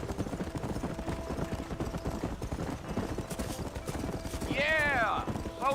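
Rapid rhythmic clip-clop of horse hooves galloping in Red Dead Redemption runs steadily throughout, with a horse whinny rising near the end.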